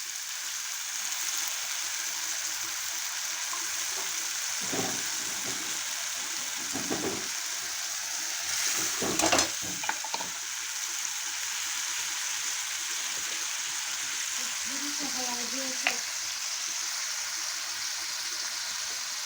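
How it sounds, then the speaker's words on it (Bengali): A paste of ginger, garlic, onion and tomato cooks down in a pan for a mutton-fat pea ghugni, giving a soft, continuous low sizzle with occasional stirring scrapes and clatters. "পেস্টটাকে আমি ভালো করে কষিয়ে নেব।"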